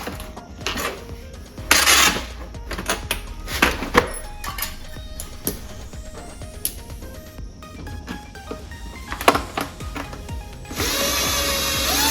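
A power drill backs screws out of the rear arm rest of a 1960s Cadillac, with short whirring bursts mixed with metallic clinks and rattles of tools and parts. The sounds are close, intermittent and uneven, with no talk.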